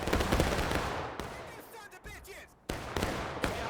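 Musket volleys ring out in a Civil War battle in the game War of Rights, with sharp cracks and scattered shots from several rifles, loud and close at the start and end, with a quieter gap between.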